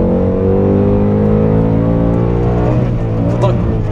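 A 2020 Ford Mustang Bullitt's naturally aspirated 460 hp V8 drones loud and steady from inside the car while driving, its deep harmonic rumble climbing as revs rise, with voices talking over it.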